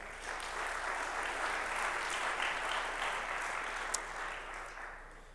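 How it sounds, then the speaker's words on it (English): A full round of applause at a college athletics hall of fame ceremony, dense and steady clapping from a large audience, sustained at even loudness throughout. "Let's give them a round of applause."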